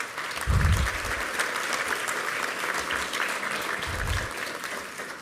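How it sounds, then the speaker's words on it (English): A school awards ceremony audience applauds for a visiting senator, a moderate, steady round of clapping that fades toward the end, with a couple of low thumps near the microphone. "If you'll give him a round of applause"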